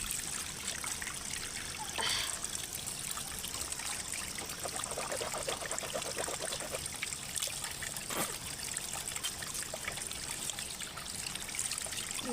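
Water trickles steadily into a village spring basin in rural Nepal, a continuous soft splashing and gurgling that carries on alone at a low, even level.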